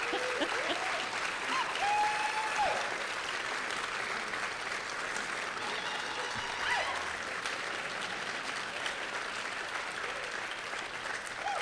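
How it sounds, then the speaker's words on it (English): Sustained applause from a roomful of students honoring faculty at a university white coat ceremony; a broad, steady wash of clapping at moderate distance, holding evenly for several seconds with faint voices mixed in. "this is where you give them a huge roll of applause"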